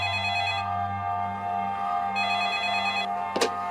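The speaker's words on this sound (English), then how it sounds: "The phone rings." An old-style telephone bell rings in a living room, a steady continuous trill held for several seconds, clear and close with no voices.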